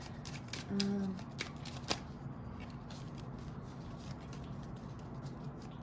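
Tarot cards riffle and slide in a brief, close shuffle followed by soft taps and flicks as cards are drawn, all fairly quiet in a still room without speech.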